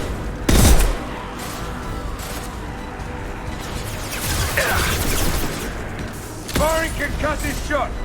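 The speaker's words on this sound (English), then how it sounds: "Firing concussive shot." Weapon fire in Mass Effect 2, with a sharp, heavy blast near the start, rumbling impacts in the middle and another burst later, all over layered game effects.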